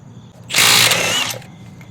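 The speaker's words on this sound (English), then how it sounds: "We're going to set on speed 3. We have the correct socket. See if it'll break it off, okay?" Milwaukee M12 Fuel 3/8-inch stubby impact wrench on speed 3 breaking a nut loose: a single loud, close burst of rapid hammering, just under a second long, with quiet before and after.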